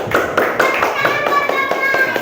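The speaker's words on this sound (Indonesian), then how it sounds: "tepuk tangan" A classroom of children claps together in a lesson on a Quran verse, with a quick, irregular patter of many hands rising and falling in rhythmic bursts over a couple of seconds, close and fairly loud.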